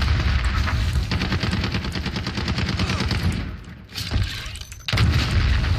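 Gunfire and a grenade blast in a Call of Duty Modern Warfare match: dense, loud rapid firing gives way to a brief dip, then a heavy burst and renewed firing.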